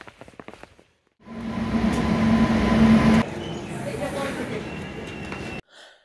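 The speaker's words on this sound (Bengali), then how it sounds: "1314 আপ তিস্তা তোরসা এক্সপ্রেস যখন স্টেশনে ঢুকলো" The 13141 Up Teesta Torsa Express pulls into a station, a loud sustained rumble and rattle of wheels on rails with a steady tonal hum, ending abruptly into quiet.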